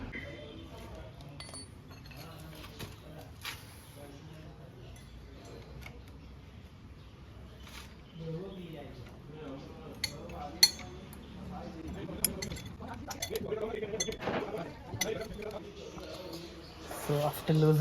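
Metallic clinks and scrapes of a 5 mm Allen key working loose the chain-cover bolts on an Interceptor 650 motorcycle, faint and close, with a low steady hum underneath.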